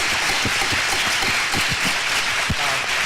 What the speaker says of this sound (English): Please hold your applause so that we can move this discussion along.